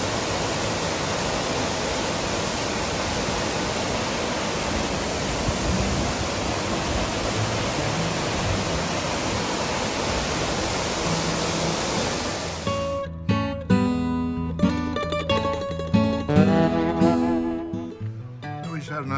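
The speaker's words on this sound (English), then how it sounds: "All right, here's Long Creek Falls." Steady roaring rush of Long Creek Falls waterfall, loud and continuous, with music coming in over it toward the end.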